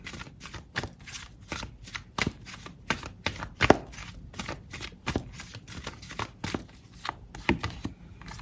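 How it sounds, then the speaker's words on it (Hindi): Tarot cards being shuffled and drawn, a steady run of crisp riffling flutters and slaps, close and fairly quiet, with no talking over them. "यहाँ से भी कुछ कार्ड्स लेते हैं।"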